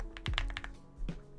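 Quick keystrokes on a computer keyboard as a profile name is entered, a close burst of several crisp clicks followed by a single heavier tap a moment later.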